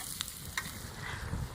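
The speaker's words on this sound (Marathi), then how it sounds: "तर पाणी थोडं टाकून घेते आणि लोळे मासे शिजवून घेते." Lolya fish cooking in a little water on a griddle pan gives a faint, low simmering sizzle, with a couple of soft utensil clicks near the start.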